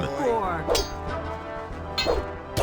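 Bare-fisted blows land in a Gothic 2 brawl, several sharp thwacks with ringing tails spaced unevenly, heard over the game's steady background and lingering voice sounds.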